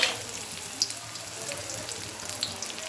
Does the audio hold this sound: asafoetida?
yes